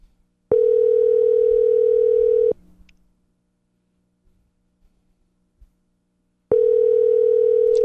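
An unanswered telephone call rings back in two long steady tones several seconds apart, loud and clear with near silence between them.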